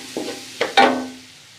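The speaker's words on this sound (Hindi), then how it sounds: "अब इसको फ्राई करना है" Spice paste fries in a pan while a spoon stirs it for a chargha chicken recipe: two or three short scraping, sizzling bursts, each rising then trailing into a soft hiss, close and fairly quiet.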